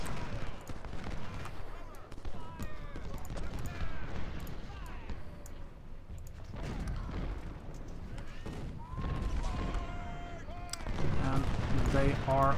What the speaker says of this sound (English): Walton, can you fire a volley as well?